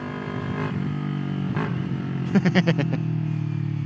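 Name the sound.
Kawasaki Ninja 400 motorcycle engine revving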